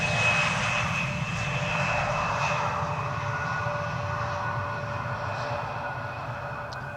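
A jet airliner arriving from Düsseldorf at Schiphol Airport, a steady, loud engine roar with a whining tone that fades slightly as the plane passes, heard alone without talk.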